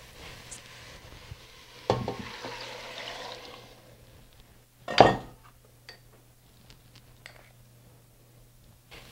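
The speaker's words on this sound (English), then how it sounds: "The next step is to add the broth, potatoes, and optional salt." Broth and potatoes going into a pot of Portuguese kale and potato soup: two sharp clattering splashes several seconds apart, with faint metallic clinks and quiet kitchen handling between them.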